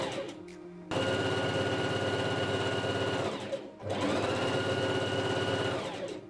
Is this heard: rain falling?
no